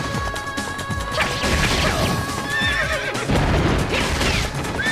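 Horses whinny loudly amid galloping hoof clatter and clashing impacts in the battle game Samurai Warriors 3, busy and close with overlapping effects.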